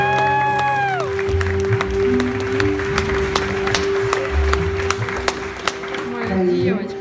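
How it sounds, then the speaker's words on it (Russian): Wedding guests clap in a dense crowd round of applause, loud and sustained with sharp individual claps, while a tonal musical or electronic sound runs through and some voices murmur underneath. "Ваши аплодисменты поддержат решение жениха."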